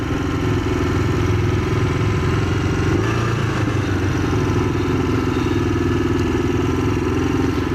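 A Kawasaki Ninja 500R motorcycle engine idles steadily nearby, a continuous low, even rumble with a faint mechanical clatter and no talking over it.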